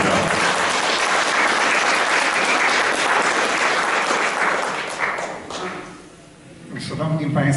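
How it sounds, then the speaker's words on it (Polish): Warm audience applause after a concert in Lviv, dense and steady, thinning briefly near the end before swelling again. "Jeszcze raz gorące brawa dla pana Aleksandra."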